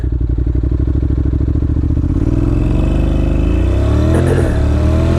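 2016 Honda NC700X motorcycle with automatic transmission idling with a loud rapid chug, then revving up as it launches from a stop, engine pitch climbing steadily and close to the microphone.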